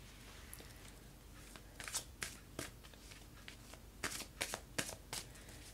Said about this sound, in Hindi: अब मैं लाइव शफल करूँगी टैरो कार्ड्स